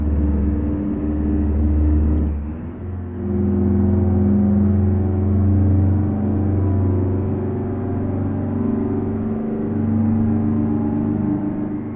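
A heavy International 9800 cabover truck engine in American Truck Simulator drones loud and steady, its pitch dipping briefly before climbing into a sustained high rev that holds.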